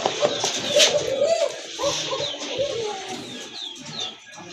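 Large pigeons coo again and again at a seller's stall, close and layered over one another, with soft rustling and faint background murmur.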